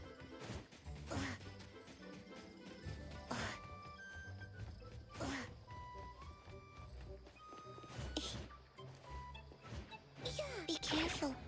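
Glass smashes in the video game NTE: several sharp crashing impacts spread over a dozen seconds, mixed into busy game sounds with steady background tones.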